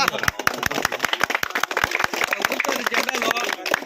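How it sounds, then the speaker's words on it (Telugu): A crowd at a political party gathering claps loudly and close, sharp irregular hand claps rattling continuously over a murmur of voices. "క్లాప్స్ కొట్టండి"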